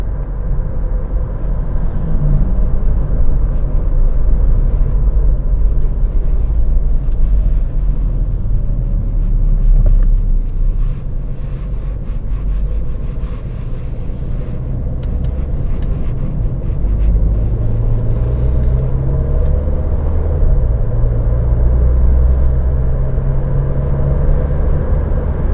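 A 2022 Audi A3 driving at night through heavy traffic gives a steady, loud low rumble of engine and road noise that holds for the whole stretch, with no voices.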